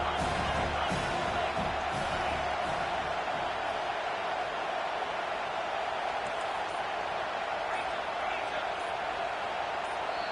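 Dense, steady roar of a packed stadium crowd at a Michigan State at Auburn college football game, loud and continuous throughout with no break, under a commentator's voice.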